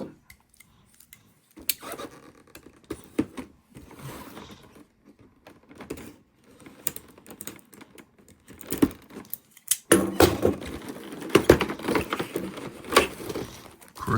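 A toy box from The Loyal Subjects M.A.S.K. line is opened from the bottom, giving close cardboard scrapes, taps and flap rustles, sparse at first and then denser, crackling handling of packaging.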